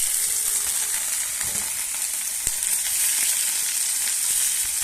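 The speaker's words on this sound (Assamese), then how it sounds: "পিঁয়াজ ৰঙা হৈছে, এতিয়া বহাই দিলোঁ।" Onions frying in a pan for a home lunch, a steady dense sizzle close up with a few faint stirring knocks.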